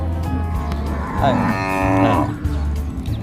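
Thai native cattle mooing at a livestock market, one long, loud, close moo rising and falling over a low rumble of market noise.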